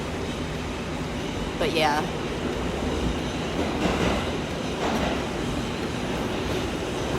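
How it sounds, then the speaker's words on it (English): Interior of a commuter train car on a quiet weekday, with a steady rumbling drone of wheels on track and brief squeals and clatter over it, while a voice speaks quietly a few words. "it's my first time getting on the train since being quarantined"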